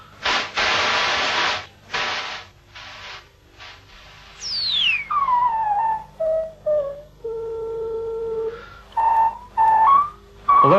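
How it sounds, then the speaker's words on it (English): Synthesizer white noise pushed through a tightened filter gives hissy bursts that turn into gliding and steady whistling tones, heard alone in separate phrases rising and falling in pitch. "that's the sort of whistling sound that I want"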